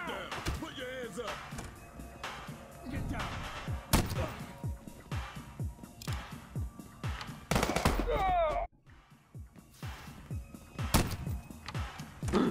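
Gunfire in the police video game Police Stories, including shotgun blasts, rings out as sharp repeated bangs in irregular bursts amid other game effects and music, while players talk excitedly over the action.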